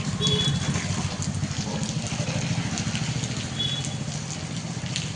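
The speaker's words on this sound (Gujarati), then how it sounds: "વરસાદ બંધ થવાનું નામ લેતો નથી" Steady, continuous rain after several days of nonstop downpour, a dense even hiss of drops on surfaces, fairly close and unbroken throughout with no voices.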